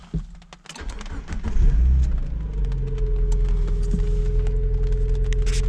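A Mazda MX5 engine starts after some handling noises and settles into a steady, low idle rumble heard close up, with a faint whine over it.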